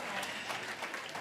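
Audience applause at a church service fills the short clip as a steady, dense wash of clapping, faint and distant, with no talk over it.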